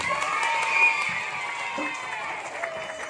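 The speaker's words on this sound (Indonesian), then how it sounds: "Tepuk tangannya dong." Audience applause and crowd noise at a Maulid religious lecture in a pesantren in Sukabumi, a dense continuous clapping mixed with scattered voices and cheering from a large gathering.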